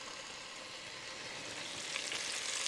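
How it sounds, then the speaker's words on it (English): Bacon fries in a pan with a soft, steady hiss and fine crackle, fairly quiet and close, swelling slightly toward the end. "And when I get this bacon fried up"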